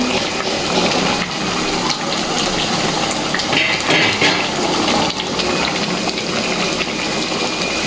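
Rui fish pieces slipping one at a time into a pot of vegetable curry with ash gourd that has come to a boil, giving a steady close bubbling and hissing wash of liquid with no talk.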